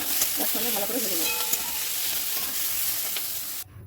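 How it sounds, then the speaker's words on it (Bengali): Shrimp fry with bitter gourd in hot oil with a loud steady sizzle, stirred by a utensil that scrapes and clinks against the pan several times. "চিংড়ি মাছগুলো দিয়ে দেবো, নুন হলুদ দিয়ে দেবো, তার সঙ্গে ভালো করে ভেজে নেবো"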